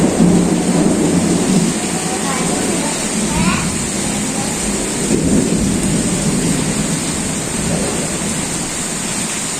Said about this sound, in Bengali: বৃষ্টি হইতেছে এক ঘন্টা ধরে বৃষ্টি হচ্ছে